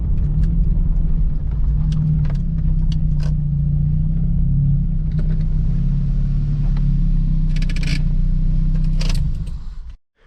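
A 2002 Acura RSX Type S on adjustable-damper coilovers cruising, with a steady low engine and road rumble heard from inside the cabin, a few faint knocks and rattles, and a sudden cutoff at the end.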